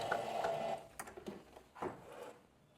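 Sewing machine stitching a fabric ruffle for a blouse, a faint whirring run of rapid needle clatter at the start, then quieter intermittent mechanical clicks and knocks.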